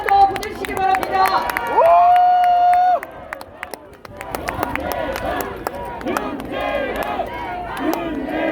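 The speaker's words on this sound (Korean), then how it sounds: "박수 크게 한 번 더 보내주시기 바랍니다" Crowd at an outdoor protest rally against the Fukushima contaminated water release, cheering and clapping loudly together, with shouts and a brief sustained tone early on, then a dip before the noise swells again.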